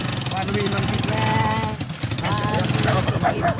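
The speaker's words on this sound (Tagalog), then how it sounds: "ayan, may motor" A motorcycle engine runs close by with a steady idling putter on a street, heard under people talking throughout.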